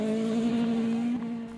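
A rally car races at high speed through a tricky downhill forest stage, its engine holding a steady, loud tonal whine that climbs slightly before easing off as it passes.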